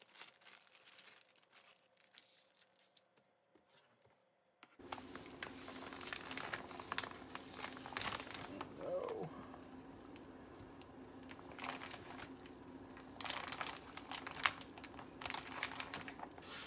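Plastic sous vide bag for ribs being sealed with a paper towel at the top, heard as close, intermittent crinkling and rustling of plastic after a quiet start, with short handling noises scattered through.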